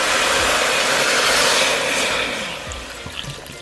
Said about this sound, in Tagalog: Lagyan na po natin ng sabaw o tubig.